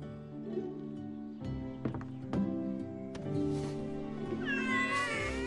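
Kittens in a cartoon meow repeatedly, several overlapping high mews rising and falling close up, with a long wavering cry near the end.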